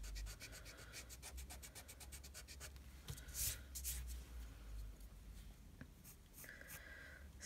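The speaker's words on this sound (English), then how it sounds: "I'm going to rub out these lines here" An eraser rubbing out pencil lines on paper, heard as quiet, close, rhythmic scrubbing strokes with a few sharper scratches.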